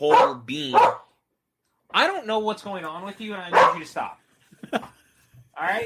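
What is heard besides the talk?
dog barking behind office door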